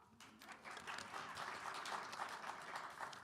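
Audience applause at a coffee house concert, a steady wash of clapping that swells after the first moment and holds, faint and distant, with no speech over it.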